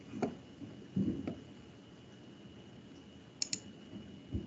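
A computer mouse clicking nearby, a few sharp isolated clicks spread out, including a quick double click, over a quiet room background.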